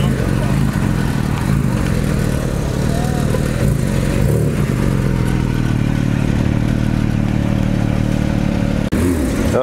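A Porsche GT3 RS sports car drives past at a car rally in Belgium. Its engine rumble stays under continuous talk among other passing traffic and clatter, with a short break near the end.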